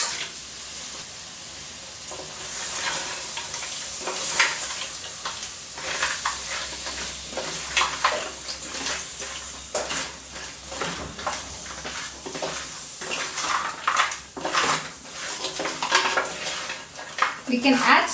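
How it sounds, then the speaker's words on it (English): Cut and cleaned crab is stirred into a frying masala in a pan for a Kerala crab curry, with steady sizzling under repeated scraping and clattering of a spoon against the pan. "Now let's add the crab. The cut and cleaned crab and give it a good stir so that the masala is mixed well with the crab."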